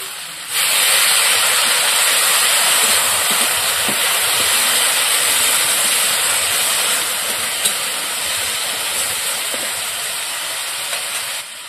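Water poured onto a sautéed, spiced curry in a hot pan sets off an abrupt, loud hissing sizzle. The sizzle holds steady for many seconds and then eases slightly, close up with no voices.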